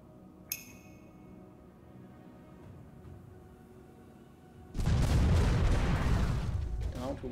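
Ship cannons firing in the naval battle game Port Royale 4: a sharp click, then a loud sustained roaring burst of cannon fire with crackle that fades slightly toward the end.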